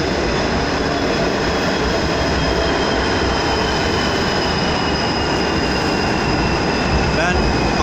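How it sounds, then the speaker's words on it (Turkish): A train at Rami station in Istanbul gives a loud, continuous rumble and roar that fills the whole stretch, with faint voices in the background. "Kumay geliyor. Rami istasyonu burası."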